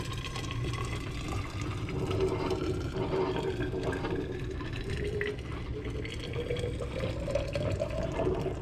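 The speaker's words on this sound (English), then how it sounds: "So we're going to pour this into the thermos, heat the inside of the thermos up before the coffee's ready." Boiling water pours steadily into a thermos, a continuous gurgling fill whose pitch slowly rises as the vessel fills, close and alone.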